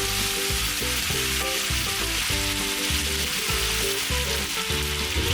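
A ladle of stock poured into a pan of mushroom risotto sizzles and bubbles loudly and continuously up close, with a dense steady frying hiss and no voices over it.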